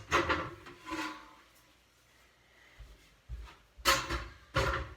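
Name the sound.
chair being swapped out and moved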